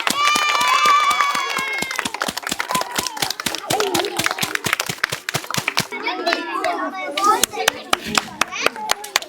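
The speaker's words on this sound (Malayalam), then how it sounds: "എല്ലാവരും കൈയടിച്ചേ" Schoolchildren clap their hands in a steady, rapid stream of sharp claps close by, mixed with children's voices and chatter throughout.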